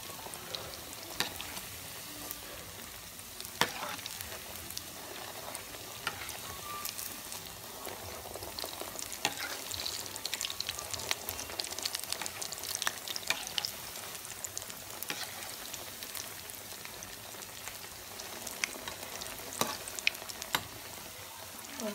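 Bread rolls fry in a pan of oil and are turned one at a time, giving a steady bubbling sizzle broken by sharp crackles and occasional clicks, with no talk.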